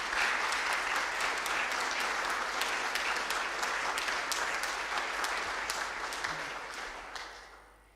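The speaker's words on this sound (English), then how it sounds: "I think they all deserve a round of applause." A concert audience gives a sustained round of applause, dense clapping at a steady level that thins and fades away over the final second or two, with no speech heard.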